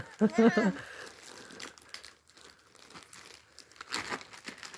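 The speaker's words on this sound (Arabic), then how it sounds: "افتح هذا الكيس" A plastic bag is opened, giving a loud burst of crinkling at the start followed by softer, scattered rustling and handling noises.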